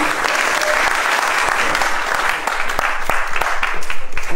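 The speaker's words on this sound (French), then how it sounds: "vous pouvez l'applaudir à nouveau" Festival audience applauds at a film festival closing awards ceremony, a dense, steady wash of clapping from a large crowd that stays loud and continuous throughout.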